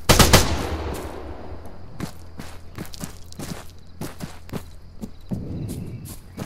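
Gunfire in the military video game Arma 3 at a UAV: one loud close blast, then a rhythmic series of sharp shots roughly every half second, crisp and clear with no talk.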